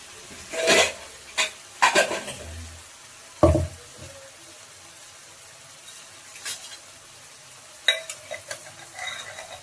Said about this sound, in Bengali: আর এইবার আমি মটনটা দিয়ে দেবো কষানোর জন্য।